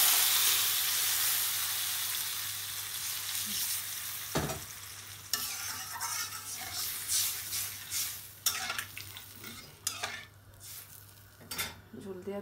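Curry simmers and sizzles in a pan after water is added, with a steady hiss under sharp metal spoon scrapes and clinks against the pan. No talking.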